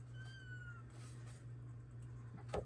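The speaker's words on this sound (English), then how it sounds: "As you can hear my kitty." Pet cat indoors, one short rising-then-falling meow near the start over a steady low electrical hum, followed by a sharp tap at the end.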